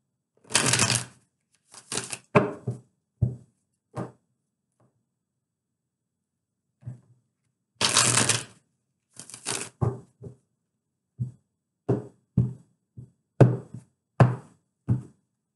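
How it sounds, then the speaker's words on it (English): Tarot cards are shuffled in quick riffling bursts with pauses between, followed by scattered light taps and flicks, close and crisp. "2 more shuffles and we are good."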